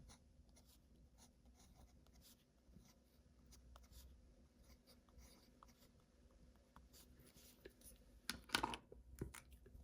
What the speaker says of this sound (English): Let me just write this sequence again.